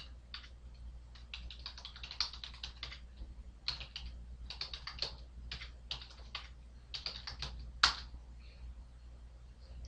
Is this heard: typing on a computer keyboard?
yes